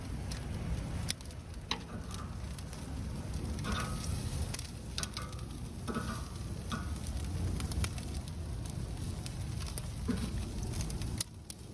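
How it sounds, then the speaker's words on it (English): Steady patter of rain outdoors, a dense broadband hiss with scattered sharper drops, continuous and fairly close, no voices. "it is starting to rain out here"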